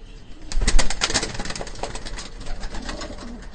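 Racing pigeons cooing close by inside a loft in Manila, with soft fluttering and rustling mixed in and a busier burst near the start.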